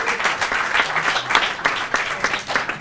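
Lively applause from a studio audience on a French television show, measured for an applause meter, dense and loud clapping throughout the short stretch.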